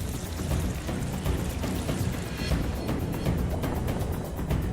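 Water pours from a 3-litre vessel into a 5-litre vessel during a Raven quest challenge, making a steady, close, splashing gush that runs unbroken throughout with no talk over it.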